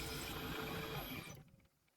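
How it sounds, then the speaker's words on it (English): A power drill bores a 6mm hole in steel with a steady, loud whirring grind for about a second and a half before spinning down and stopping. "I'm drilling a 6mm hole here"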